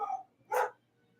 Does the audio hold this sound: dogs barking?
yes